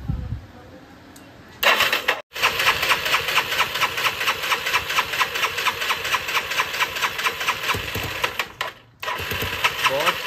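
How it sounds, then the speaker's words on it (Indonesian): Yamaha Mio Soul motorcycle with a 130cc bore-up engine starts and runs close by, a loud steady idle with rapid even firing pulses, briefly cutting out twice before catching again. "Terus ini tinggal cek engine on yo. Ini udah nyala"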